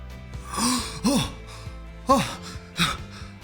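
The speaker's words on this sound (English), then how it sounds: "Breathing." A person draws in several deep, audible breaths, each a short voiced gasp with a rising pitch, spaced irregularly and close, with a faint room hum beneath.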